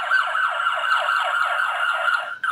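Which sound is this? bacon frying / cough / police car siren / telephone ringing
police car siren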